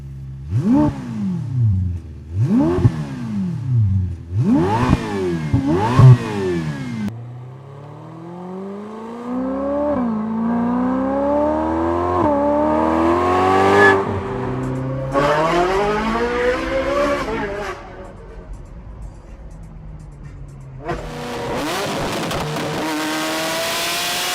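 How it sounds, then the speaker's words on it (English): A Ferrari F8 Tributo's turbocharged V8 revs hard in several rising and falling sweeps, then holds long climbing pulls through the gears, loud and close with no voices. "The F8 Tributo V8 turbocharged was praised for performance, but even here, the sound lacks the visceral punch of the old naturally aspirated engines."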